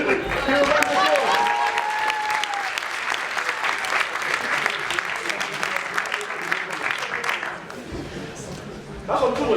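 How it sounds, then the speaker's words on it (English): Conference keynote audience breaking into a round of applause, a dense, sustained burst of clapping with a few voices mixed in, fading out near the end before another brief swell. "Give a round of applause."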